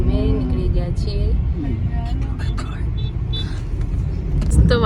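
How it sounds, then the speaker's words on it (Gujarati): Inside a car driving along a road in rainy weather, a steady low engine and road rumble runs beneath people talking throughout. "એક ગાડી આગળ જઈ રહી છે આ, અને હવે અમે નીકળી ગયા છીએ."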